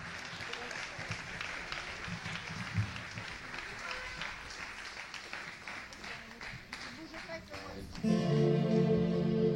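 An audience applauds a singer at a tribute concert in Pomérols, a dense clapping wash with some voices mixed in, ending as music begins.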